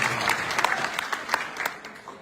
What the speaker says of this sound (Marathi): एकदा टाळ्या आपण त्यांच्यासाठी वाजवल्या